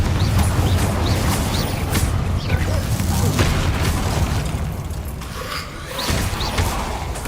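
Confringo spell blasts in the Hogwarts Legacy video game, a dense continuous wash of booming explosions and whooshes, loud and close, with overlapping bursts throughout.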